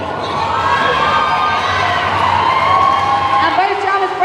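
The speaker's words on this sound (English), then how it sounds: "He's cheering on the crowd." Crowd cheering at a roller derby bout, a loud, steady roar of voices filling the arena with shouts and whistles rising over it, while a commentator talks throughout.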